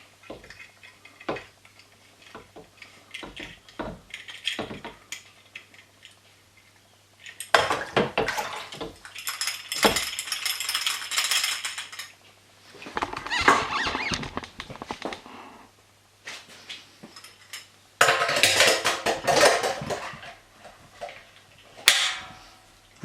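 A keg washer being reassembled: its lid and pressure valve are fitted back on with scattered metallic clinks, ticks and clatter, separated by short quiet gaps and bursts of rinsing, hissing noise.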